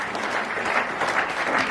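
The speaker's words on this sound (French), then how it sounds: "est-ce qu'on peut applaudir?" Guests at a fiftieth birthday party clapping, a dense burst of applause that keeps up steadily throughout at moderate loudness.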